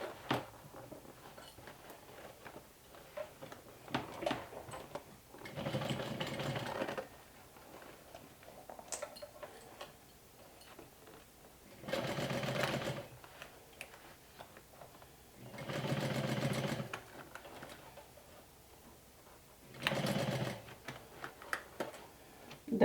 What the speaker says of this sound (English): then we're stitching again with a 1/4 inch seam allowance